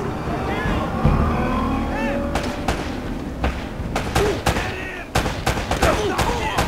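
Gunfire rattles in Uncharted: Drake's Fortune as sharp, loud shots crack out in irregular bursts, mixed with game effects and someone talking over the action.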